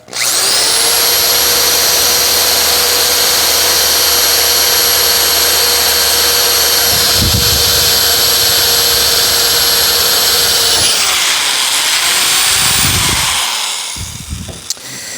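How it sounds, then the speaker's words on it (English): A power drill whines steadily and loudly for about ten seconds while driving screws into horse barn stall fronts, then revs down, pulses briefly again, and trails off near the end. "Now, before I drill all of them"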